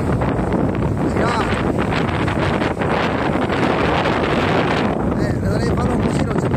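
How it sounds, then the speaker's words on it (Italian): Strong wind buffets a microphone on a rough seashore at sunset, a loud, continuous roar that fills the whole stretch with steady gusts. "ancora c'è un vento incredibile"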